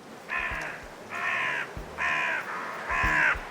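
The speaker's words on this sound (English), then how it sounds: "Thousands of crows chose the city of Troy to roost late last year." Four harsh crow caws in steady succession, each about half a second long, loud and fairly close, with faint low rumbling background noise.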